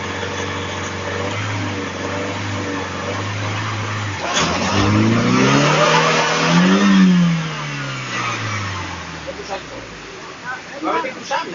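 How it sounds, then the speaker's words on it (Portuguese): A Renault Duster 4x4 engine revs hard while the vehicle is pulled back up an embankment. The mid-pitched engine note holds steady, then swells and climbs in pitch before easing back down, loud and close. "Tenta puxar o carro de volta."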